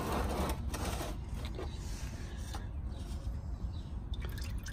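Engine oil drains and drips from a just-removed oil filter on a 2019 Toyota Tundra 5.7 during an oil change, giving a steady close-up liquid patter with soft wet splatters and no talk.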